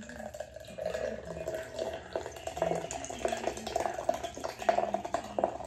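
Canned Waterbird Vodka Citrus Squeeze cocktail poured slowly into a glass, a soft steady liquid trickle with faint splashing that runs close by for the whole stretch, no voices present.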